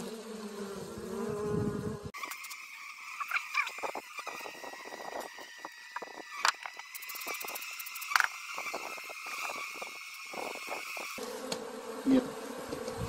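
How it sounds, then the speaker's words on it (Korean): Native Korean honeybees, an Asian honeybee colony, hum and buzz steadily at a traditional hive, a dense close drone with scattered handling knocks and clicks, continuing without talk. "동양종 꿀벌이죠."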